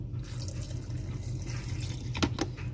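Hot simmering broth poured into a glass canning jar for pressure-canned Dijon chicken, a soft continuous watery trickle close by, with a couple of brief splashy pulses near the end.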